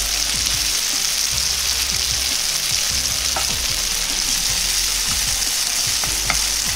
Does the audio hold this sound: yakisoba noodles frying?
yes